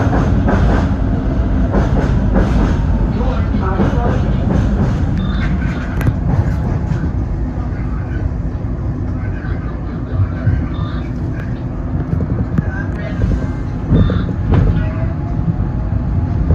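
A Philadelphia Market-Frankford Line subway train departing a station rumbles steadily and loudly, wheels clattering over the rails with a constant low roar and occasional squeaks and clunks.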